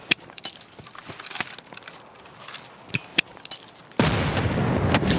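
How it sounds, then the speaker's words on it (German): Rifle gunfire in the video game Escape From Tarkov: several sharp, distant-sounding shots and cracks scattered over a quiet background, followed by a sudden loud noisy rush. "Ich habe zwei Gewehre gehört."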